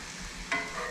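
Asparagus, mushrooms and onion sautéing in a pan, a steady close sizzle with a stirring scrape partway through, no talking.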